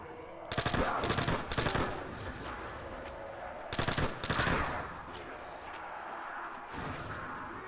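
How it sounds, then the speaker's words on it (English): Thompson submachine gun hip-fired in a Call of Duty zombies custom map, two rapid bursts of automatic fire close up, each lasting about a second, with quieter ambient game noise between them. "I like hip firing on PC, especially when I've got something like Thompson"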